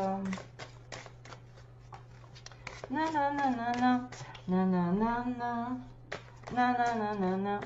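Tarot cards riffle and slap in quick shuffles, followed by someone speaking in French over the quieter card handling.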